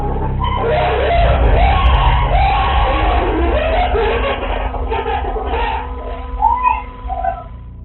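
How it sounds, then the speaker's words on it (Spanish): Women of a cleaning crew scream and shout in a building, caught by a security camera; loud overlapping yells and wails carry through much of the stretch over a steady low rumble, with crowd-like commotion. "La cámara de seguridad del lugar logró capturar algunos gritos cuando las mujeres de limpieza"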